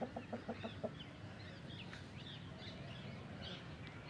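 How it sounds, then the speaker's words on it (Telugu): Roosters kept in individual cages give a quick run of rhythmic clucks at the start, then faint bird calls carry on in a quiet outdoor setting. "ఒక్కొక్క దానికి ఒక పంజరం వేసి పుంజలను పెంచుతున్నాడు"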